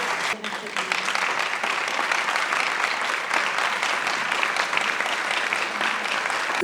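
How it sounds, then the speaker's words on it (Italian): An audience at an award ceremony, the Hemingway Prize in Lignano, claps for an honoree in a dense, continuous burst of applause that stays loud and even throughout. "A Irina Scerbatova, un applauso per favore."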